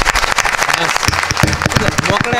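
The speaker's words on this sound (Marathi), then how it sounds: "टाळ्या वाजवायच्या असल्या तर मोकळ्या मनाने वाजवा" A large crowd at a religious kirtan gathering breaks into rapid, dense clapping, a loud close patter running throughout with a voice heard briefly near the start.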